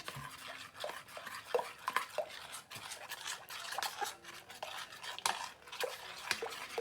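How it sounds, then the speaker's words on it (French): A spoon stirs a salted cream sauce in a pot, giving a quiet, steady scraping and clinking of utensil against metal with no voices. "j'ajoute le sel et je mélange bien"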